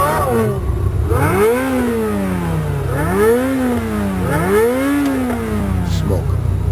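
A Lamborghini Murcielago engine revs hard in repeated rising and falling sweeps, three or four blips in a row, loud and close, with voices talking over it.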